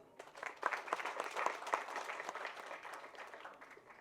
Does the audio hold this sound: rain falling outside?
no